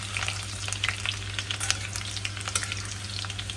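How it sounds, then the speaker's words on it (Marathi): Garlic and onion frying in hot oil in a home kitchen pan, a steady close crackling sizzle with scattered spitting pops throughout, no voices. "इथे आपण या गरम तेलामध्ये लसूण घातलाय"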